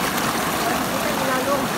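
Cold river water flows with a steady, broadband rushing wash, continuous and fairly close, while voices murmur faintly over it.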